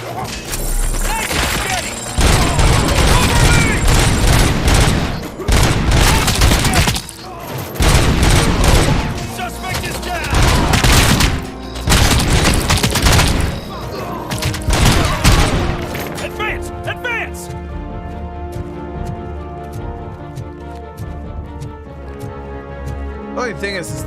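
Loud bursts of rapid automatic gunfire with heavy booms ring out in RoboCop: Rogue City, firing in repeated volleys for about fifteen seconds before tapering into quieter shots over music, with a voice talking throughout.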